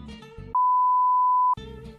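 A single steady phone dialing tone sounds for about a second, clean and continuous, starting and stopping abruptly between brief background sounds.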